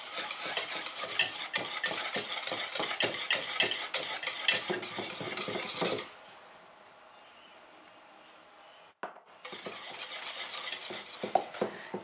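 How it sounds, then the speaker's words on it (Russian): A spoon stirs thick kefir pancake batter in a bowl as flour is worked in. Fast, steady scraping and clinking runs loud and close for several seconds, stops briefly, then starts again. "Тесто хорошо перемешиваем"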